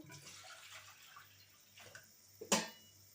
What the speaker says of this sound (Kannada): ಒಂದು ಪಾತ್ರೆಗೆ ನೀರು ಹಾಕ್ಕೊಂಡು